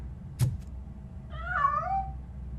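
A cat meows once in RoboCop: Rogue City, a drawn-out, wavering call rising and falling over low background hum, heard clearly and fairly close after a brief sharp knock.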